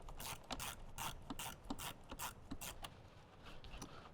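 A ratchet clicks in quick repeated bursts while removing two 10 mm bolts in a Jeep JL during a speaker installation, close up and fairly quiet.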